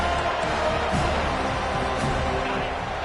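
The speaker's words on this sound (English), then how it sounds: "They challenge this crowd to bring the energy, and I'd say they're doing that." Dense, steady roar of a large football stadium crowd at a Clemson game, cheering loudly and continuously with no break, close and enveloping throughout.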